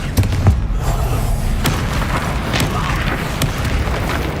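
Confringo fire spell bursting in Hogwarts Legacy, heavy booming impacts and thuds amid game combat noise, with brief voices over the clash.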